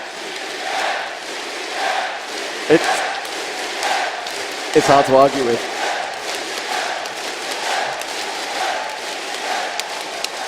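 Tournament crowd at a finals match, a steady broad murmur with a couple of short bursts of cheering, heard under a commentator's talk.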